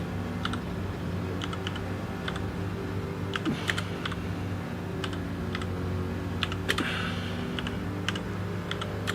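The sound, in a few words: typing on a computer keyboard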